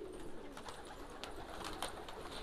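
Pigeons are heard in a place where thousands of them are kept, with soft low cooing and faint fluttering over a continuous, hissy background.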